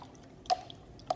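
Two faint, distinct drips fall as paint brushes are lifted from soapy water, small wet plinks separated by a quiet pause.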